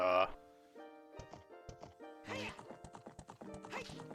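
A horse in the video game Ocarina of Time Randomizer gallops with rapid clip-clop hoofbeats, opened by a sharp whinny and set among other tonal game sounds.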